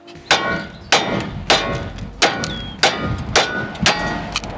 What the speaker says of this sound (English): I need to beat the fuck out of this with a hammer for a little bit.